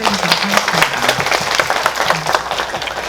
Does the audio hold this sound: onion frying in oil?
no